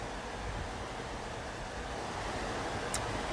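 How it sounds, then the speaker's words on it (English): A backyard waterfall in rainy, cold New Zealand, heard as a steady, dense rushing roar of falling water that stays constant throughout, close and loud, with no voices. "we've got our own amazing waterfall in our backyard."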